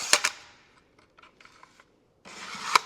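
A stick nailer's magazine is locked out, giving sharp metallic clicks at the start and end around a stretch of faint rubbing and shuffling handling noise, close by and with no voices.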